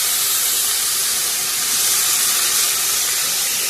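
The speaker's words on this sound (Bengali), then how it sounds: "এরপর ভেন্ডি ভাজা হচ্ছে" Okra (bhindi) fries in a pan, a loud, steady steaming hiss and sizzle that holds unchanged close by from start to finish.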